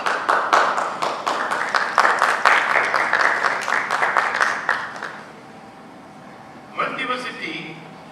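An audience applauds with loud, steady clapping for several seconds before it stops, followed by a brief stretch of talking.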